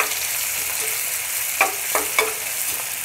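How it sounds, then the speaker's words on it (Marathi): Finely chopped onions fry in hot oil inside a pressure cooker, giving a steady close sizzle with a few brief scraping stirs. "आता इथे 2 मीडियम आकाराचे कांदे एकदम बारीक चॉप करून त्याला फ्राय करून घ्यायचे"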